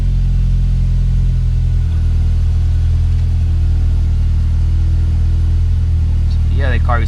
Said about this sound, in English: car is running, starter is working